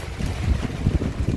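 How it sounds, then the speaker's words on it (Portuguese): Strong wind gusting during a heavy afternoon rainstorm in Santana do Ipanema, Alabama, loud rumbling buffeting close to the microphone with a continuous roar and no voices. "Mas começou a chover agora, meio dia e meio, e o vento está grande"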